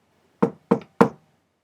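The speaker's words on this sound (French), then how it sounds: "Ils frappent à la porte." Three firm knocks on the door of a house, evenly spaced about a third of a second apart, close and clear against silence.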